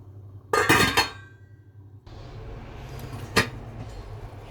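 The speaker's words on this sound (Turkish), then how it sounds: "pilavımı pişmek üzere tenceremin kapağını kapatıyorum" A metal lid clanks onto a pot of simmering bulgur pilaf up close, then a quieter clink follows over a low background hiss.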